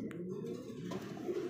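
Pigeons coo steadily at a busy pigeon market where domestic and foreign birds are sold in pairs, the soft low calls running beneath the chatter of nearby people throughout.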